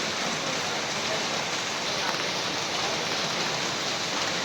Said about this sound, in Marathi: पाऊस चांगला वाढलेला आहे,